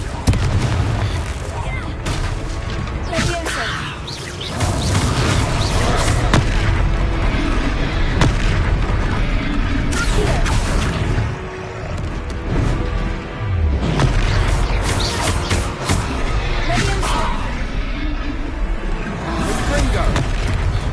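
Confringo blasting spells go off in Hogwarts Legacy combat, sending out repeated booming explosions and impacts. Continuous loud battle noise fills the gaps, and voices shout over the action.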